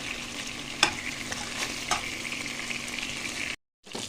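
Chicken frying in a pan for Lebanese ribs and rice, a steady close sizzle with a couple of sharp clatters as pieces are flipped, then an abrupt brief silence near the end.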